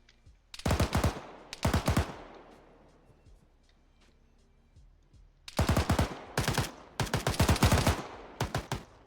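Bursts of video-game gunfire in a military training exercise on Malden, heard as several loud rapid automatic volleys separated by a quiet gap, with no talking.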